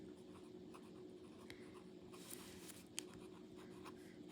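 Steady scratching of a Myers fountain pen nib on paper, a prototype Antoinette model, with faint continuous scritching and a few brief louder strokes, close and quiet.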